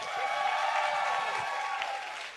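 Applause from a concert audience, dense and steady, filling the whole stretch at a fairly even level with a broad hiss of many hands clapping together.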